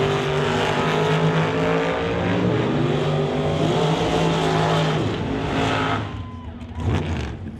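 Drag race cars launch at the T&T Motorsports West Coast Classic in Mission, BC, a loud sustained engine roar with rising gear tones that fades away near the end, with a voice faintly under it.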